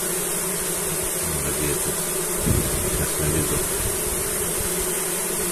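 Bees buzz around an open beehive while frames are set in, a dense continuous drone close to the microphone under brief talk.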